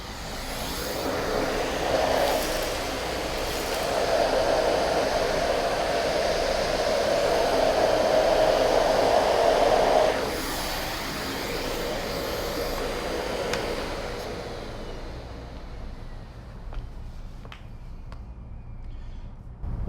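A Miele Compact C1 vacuum cleaner runs on a hard floor with a switchable head, giving a steady, loud broadband whoosh that shifts in tone partway through, then a slightly lower drone to the end.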